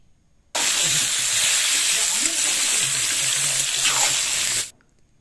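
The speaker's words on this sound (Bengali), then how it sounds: "দিয়ে ভালো করে নেড়ে চেড়ে এঁচোড়টাকেও ভেজে নেব।" Boiled jackfruit and potatoes stirred and fried in a pan for a vegetarian jackfruit and green pea curry, giving a loud, steady sizzle that starts abruptly and holds for about four seconds before cutting off, with faint low scraping underneath.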